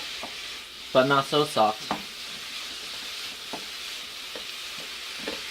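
Shredded carrot strings sizzle and fry in a pan while being stirred, with a steady close hiss throughout. A person speaks briefly near the start over the cooking.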